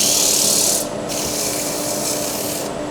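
Abrasive paper rubbing against a wooden table lamp spinning on a lathe, a steady loud scratchy hiss with slight dips as pressure shifts; no voices.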